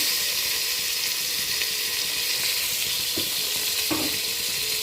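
Tomatoes sauté with ginger-garlic paste in a hot pan, a steady hissing sizzle throughout, with a couple of faint utensil knocks near the end and no voices.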